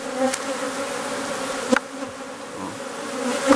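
Honeybees buzzing steadily around a beekeeper during hive inspection, a dense close droning hum with brief louder passes near the listener.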